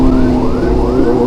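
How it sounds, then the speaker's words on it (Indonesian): An ambulance siren wails loudly and close behind on the road in traffic, its rising and falling tone sweeping continuously over low engine rumble. "di belakang saya ada ambulan ya kan"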